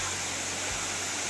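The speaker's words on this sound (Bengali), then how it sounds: "এটা হচ্ছে আন্দামানিক ঝর্ণা।" Water pours steadily at the Andamanik waterfall on the Boalia trail in Mirsharai, a dense, continuous rushing hiss that fills the whole moment with a brief low thump midway.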